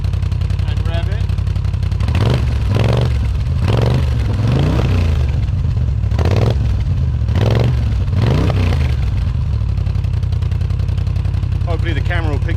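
A motorcycle fitted with dB killer exhaust baffles is revved repeatedly by hand, producing a series of short engine surges over a steady idle that rise and fall in quick succession, with faint voices at the edges.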